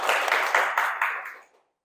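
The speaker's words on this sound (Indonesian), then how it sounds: "Boleh dong tepuk tangannya sekali lagi." A short burst of audience applause at a student talk show, many hands clapping together, fading out quickly into silence.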